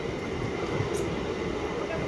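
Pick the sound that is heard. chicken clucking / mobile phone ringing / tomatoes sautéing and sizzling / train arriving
train arriving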